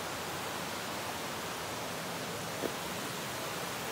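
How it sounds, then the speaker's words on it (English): Steady, rushing roar of a waterfall pouring over rocks, a continuous broadband wash of water with no voices. "Just gotta love the sound of a waterfall flowing over the smooth rocks"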